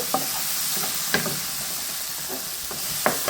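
Tomato masala sizzles in a pan as turmeric is stirred in for a village-style fish curry. A constant hissing fry runs under occasional spoon scrapes and taps, close and moderately loud, with no speech.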